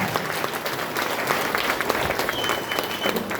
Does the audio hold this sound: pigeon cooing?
no